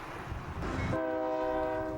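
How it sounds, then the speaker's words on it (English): A train passes near springs by a highway bridge in Scott County, rumbling along the rails as its horn sounds a sustained multi-tone blast partway through, fairly loud and without talk. "the trains go by on the south side of the springs"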